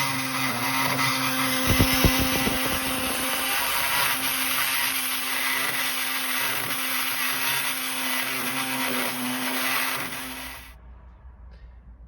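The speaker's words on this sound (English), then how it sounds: "It takes a little bit of time to just work your way along with the saw." A saw cuts steadily through the sealer along a VW bulkhead, a loud continuous buzzing grind that runs unbroken for about ten seconds and then stops abruptly, leaving a faint low hum.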